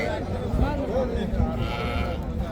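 Sheep bleating at the Zomin livestock bazaar in Jizzakh region, several wavering calls close by over busy market chatter and background voices.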